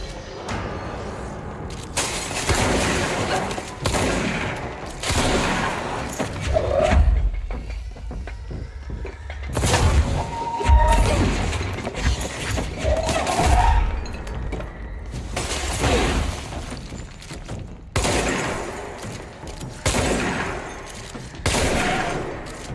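Shotgun fire in the video game Control, a series of loud, sharp blasts spaced a few seconds apart, mixed with crashing, shattering debris and clatter.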